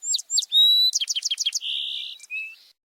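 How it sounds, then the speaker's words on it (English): A song sparrow sings alone and close: a few sweet opening notes, then a fast run of mixed warbles and trills that ends in a buzzy trill, clear against a quiet background. "It begins with 2 to 3 notes, sweet, sweet, and then devolves into a series of mixed warbles and trills."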